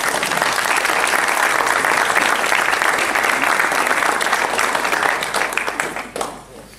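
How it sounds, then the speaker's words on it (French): Loud, dense applause from an audience for a finalist at a blackball pool tournament in Bretagne, sustained steadily for several seconds before tapering off at the end. "Donc je vous demande d'applaudir Yannick G, s'il vous plaît."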